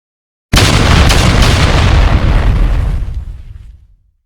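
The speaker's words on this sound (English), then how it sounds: "The first round of cannonballs made a loud sound but missed their target." Medieval cannon fire as a sound effect: one loud booming blast with a sharp onset and a rumbling tail that fades out over about three seconds, heard alone.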